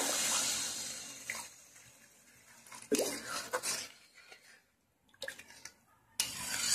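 Water is poured into a pan of fried spices for a fish curry, giving a short splashing hiss, followed by scattered clinks and stirring noises from the pan.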